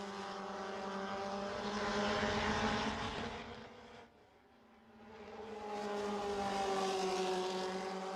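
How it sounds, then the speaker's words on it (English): MRF Challenge race cars accelerate through a right-hand corner, engines roaring loud and close, fading briefly as one pass ends before the next car's engine swells back up. "The field accelerates through the right-hander at 6."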